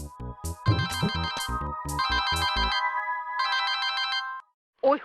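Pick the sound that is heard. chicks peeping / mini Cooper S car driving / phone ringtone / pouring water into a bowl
phone ringtone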